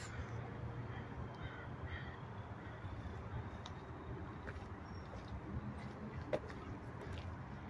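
Crows at the Lost Lagoon caw now and then at an eagle, faint and far off, under steady outdoor wind and traffic noise.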